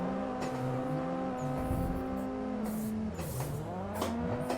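A car engine in Assetto Corsa roars steadily through a drift session, its revs swelling and sweeping as another car passes close by, with tire squeal woven in, loud and continuous.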